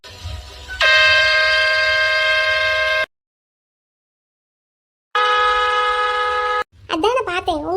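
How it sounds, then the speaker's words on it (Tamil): A motorbike horn sounds loudly in two long, steady honks separated by a pause, followed by a voice talking. "உங்களோட பைக் ஹாரன் சவுண்ட் மாதிரியே இருக்கேன்னு தான் வந்தேன்"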